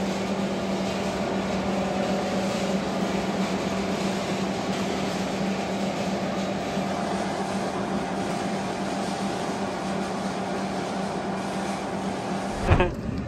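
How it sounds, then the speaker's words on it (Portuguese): A cable-winding machine works steadily at a Brazilian loading site, giving a continuous loud mechanical drone with a low steady hum throughout, capped by a brief sharp knock near the end. "Tem uma máquina lá trabalhando, enrolando. Muito barulho, né?"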